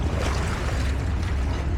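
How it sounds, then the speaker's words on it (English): Gentle lake water lapping against the shore of Lake Como just after sunset, a steady soft wash with light wind noise on the microphone and no voices. "can hear the waves lapping on the shore"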